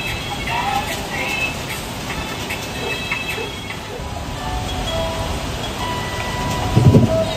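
Steady heavy rain falls in the hills of La Trinidad, Baguio, in the Cordillera, with low rolling thunder rumbling beneath it and a deeper swell of thunder near the end.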